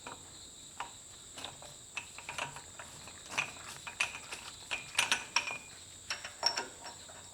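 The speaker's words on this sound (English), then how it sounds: "now we'll use a 54mm axle nut socket to remove the inner and outer nut" A 54mm axle nut socket works the inner and outer front axle nuts off a Toyota Land Cruiser 70 Series during a brake and bearing job, giving faint, irregular metallic clicks and ratcheting taps spread across the clip.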